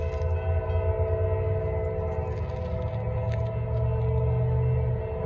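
Southbound train 241 passing on a railway line, a sustained loud rumble with a long, steady horn tone held throughout.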